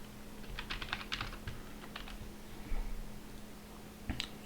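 Computer keyboard typing a SQL query for a PostgreSQL database, with bursts of quick key clicks, short pauses and a louder keystroke near the end over a steady low hum, close and moderately quiet.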